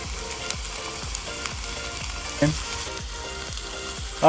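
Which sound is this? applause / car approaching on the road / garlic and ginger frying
garlic and ginger frying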